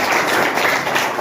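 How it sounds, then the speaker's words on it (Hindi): Brief burst of audience applause and clapping for Munna Bhai at a school gathering for a drug-free pledge campaign, dense and steady throughout the short moment. "मुन्ना भाई जी पर ताली बजनी चाहिए"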